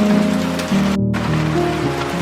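Rain falling outside a house, a steady patter heard behind sustained music tones, with a momentary dropout partway through.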